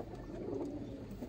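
A female pigeon coos softly nearby, a low brief murmuring call against a quiet background.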